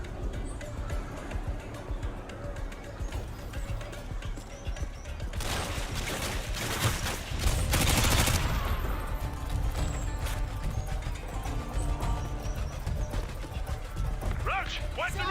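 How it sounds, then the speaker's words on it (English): Heavy militia gunfire in Call of Duty Modern Warfare 2, a constant dense battle din with a louder burst of shooting in the middle, running under speech throughout. "Roach, we're taking a heavy fire from the militia here"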